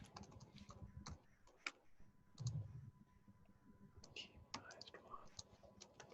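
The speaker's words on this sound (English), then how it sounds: "it's a lot of typing." Irregular clicking keystrokes on a computer keyboard, close and fairly quiet, with bursts of rapid taps separated by short pauses and faint whispered voices underneath.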